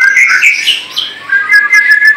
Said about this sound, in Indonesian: Ada kenari.